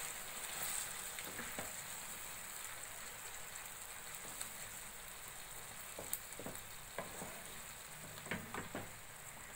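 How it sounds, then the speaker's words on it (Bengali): Coconut paste sizzles softly in a frying pan as it is stirred, with a faint steady hiss and scattered light scraping taps from the spoon, quiet and close. "এবার আমি এই নারকেলের যে পেস্টটা করে রেখেছিলাম এটা দিয়ে দেবো।"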